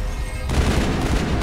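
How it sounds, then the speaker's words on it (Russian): Grenade blast in the Mass Effect prologue: a short lull of faint battle ambience, then a sudden loud burst about halfway through that rolls into a sustained roar of gunfire and explosions. "Так, давайте сразу гранату бросим"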